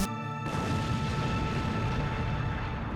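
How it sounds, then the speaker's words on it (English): A comedy drama stages an explosion: a loud, deep boom abruptly cuts off a brief tonal sound and leaves a heavy, sustained rumble that continues for a few seconds, with no speech. "It sounded like an explosion."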